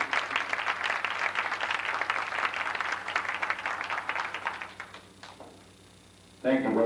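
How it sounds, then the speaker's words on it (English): An audience applauds at a 1990 American Legion award dinner, a dense burst of clapping that fades out over several seconds, followed by quiet and then a voice starting to speak. "I'd like to give him a round of applause."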